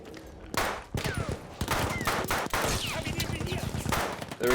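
Sidearm gunfire in the video game Battlefield 1: a rapid run of sharp pistol shots, close and loud, firing in quick bursts with brief pauses, with game ambience and some faint voice activity in the background.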